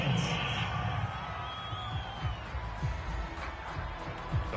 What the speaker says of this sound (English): this crowd does not like that call